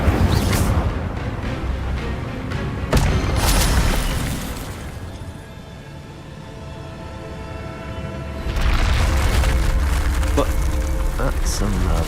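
Incendio fire spells cast in the Hogwarts Legacy video game: several sudden whooshing bursts over a steady wash of ambient game noise, with the sound swelling again near the end.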